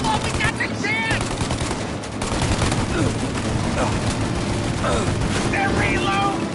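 Dense, sustained gunfire from a shootout in Mafia: Definitive Edition, with rapid overlapping shots and bursts over a steady loud bed, while voices shout faintly in the background.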